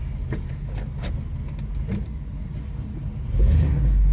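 The engine of a 1981 Pontiac Trans Am, freshly run on new oil, rumbles loudly and close with a deep throaty idle, then swells into a heavier rev near the end.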